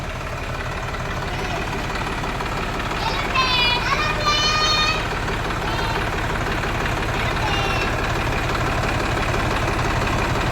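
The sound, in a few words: tractor engine with a child playing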